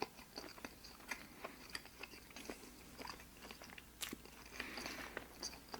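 Crunchy, wet chewing of a Burger King BK Melt sandwich with soft, chewy bread, close and quiet, bites and mastication sounds repeating irregularly with one sharper crunch midway, no talking.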